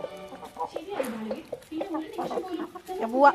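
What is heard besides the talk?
chickens clucking while being fed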